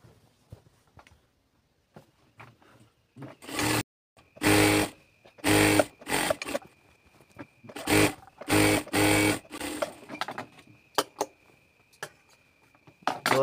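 A sewing machine stitches down the side of a salwar in repeated close bursts, each run stopping and starting, with quiet gaps between them.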